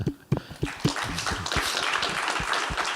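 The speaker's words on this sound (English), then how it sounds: "Well done, and applause for that." Conference audience applauding at a nature-based infrastructure financing event, a dense patter of clapping building after a few distinct initial claps and continuing steadily at moderate volume.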